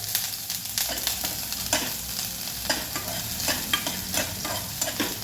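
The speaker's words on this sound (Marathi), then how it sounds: "यामध्ये आपल्याला बारीक चिरलेला कांदा घालायचा आहे थोडस त्याला मिक्स करायचं आहे" Finely chopped onion frying in a pan, a constant close sizzle with frequent scraping stir strokes, and no talking.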